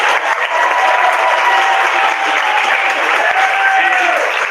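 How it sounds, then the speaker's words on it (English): An audience at a high school science symposium claps steadily, a dense even wash of applause with a faint thin tone running beneath it and no clear voices on top. "Clap for Alexa."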